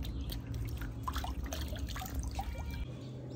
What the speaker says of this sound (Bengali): আমি জাম্বুরা দিতেছি, সুন্দর করে ধুইয়া তারপরে আমি কাটব